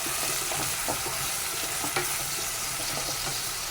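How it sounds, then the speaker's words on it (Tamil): Tomatoes and green chilies sizzle and fry in a pan, a steady bright hiss with occasional stirring scrapes and pops, close and continuous with no talking. "தக்காளி கூட வேகிற வரையும் நல்லா வசங்கணும்"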